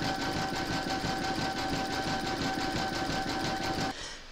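An embroidery machine sews a satin stitch border around the edge of a paw-print coaster in dark gold thread, a loud, rapid and even mechanical chatter that runs steadily and then cuts out just before the end.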